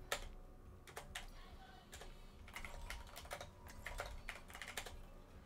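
Rapid clicking of a computer keyboard and mouse buttons during a competitive team shooter match, a steady run of close, sharp taps with no talk over them.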